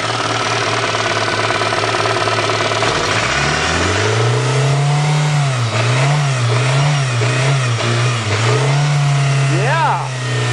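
A Suzuki Swift engine started for the first time after sitting, running with a rough idle and rising and falling revs, close and loud, with people talking over it.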